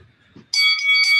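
An electronic boxing round bell rings loud and close in a gym class, a sustained bright tone pulsing in about three bursts after a moment of quiet.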